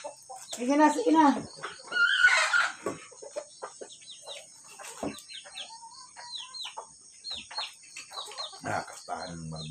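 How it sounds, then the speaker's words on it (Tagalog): Chickens on a Filipino farm cluck and call in a busy run of bursts, with a loud close squawk early on, while people talk nearby throughout. "Ito tayo manok."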